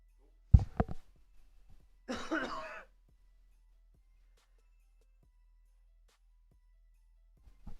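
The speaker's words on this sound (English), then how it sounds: "Hopefully I'm no longer coughing as we get into the next coming days here." A sharp cough followed a moment later by a rougher, throaty cough, then near silence, close to the microphone.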